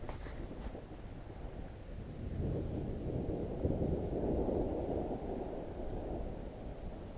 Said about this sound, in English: That, my friends, is thunder,